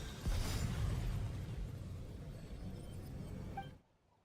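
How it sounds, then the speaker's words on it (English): A pylon blows apart in Genshin Impact, a sharp burst followed by a sustained roaring shockwave rumble that fills several seconds, loud, then cuts off abruptly. "You were all caught in the shockwave of the explosion"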